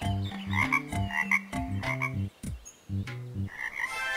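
Cartoon frogs at a pond croak in loud, close, pitched bursts, several rapid rhythmic calls in a row separated by short pauses, with a few softer squeaks between them and no talk.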